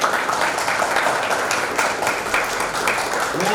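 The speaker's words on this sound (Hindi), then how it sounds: "तो उसके लिए जोरदार तालियां।" An indoor crowd at a cricket league auction event breaks into sustained applause, dense clapping held at a steady level for a few seconds.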